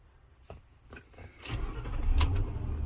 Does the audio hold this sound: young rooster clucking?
no